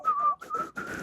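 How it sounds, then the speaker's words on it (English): A person whistles a short wavering tune in three bursts with brief gaps, close and fairly loud, with a breathy edge and no talking. "I can't whistle and laugh at this."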